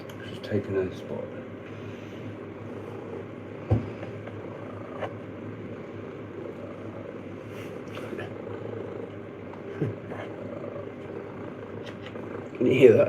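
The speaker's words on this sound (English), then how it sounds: "Oh, the cat's here." A house cat purrs steadily and close, a low continuous rumble running throughout with occasional small bumps and rustles.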